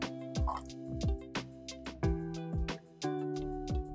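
Hot water poured from a kettle into brewed Aeropress coffee to dilute it, a few seconds of close, splashy dripping and plopping with a faintly ringing, shifting pitch as the liquid lands.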